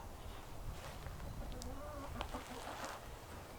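Chickens cluck softly around a backyard chicken house during a garden tour, short broken calls sitting low in steady outdoor noise with a few sharper chirps mid-clip.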